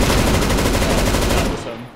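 A loud, close burst of rapid automatic fire in CS:GO, evenly spaced shots rattling for about a second and a half before cutting off sharply.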